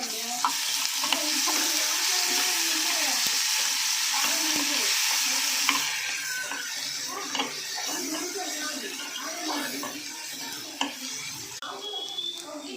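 Cashews, onions and ginger garlic paste fry in a pan for a spinach biryani, with a steady sizzle and frequent scraping stirs of a utensil against the pan.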